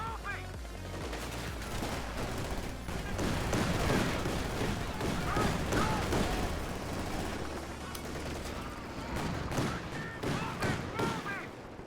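Howitzer artillery fire in the video game Company of Heroes 2 booms through dense, continuous battlefield gunfire, with rapid overlapping blasts and bursts filling the whole stretch at a steady, loud level.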